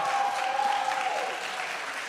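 Sustained audience applause at a conference plenary, a broad even wash of many people clapping that holds steady and then eases slightly toward the end.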